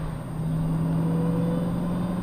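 A steady engine whine from a Dodge Challenger Hellcat under way, a sustained low tone with a thin higher whistle above it, even and fairly loud, with no talk over it.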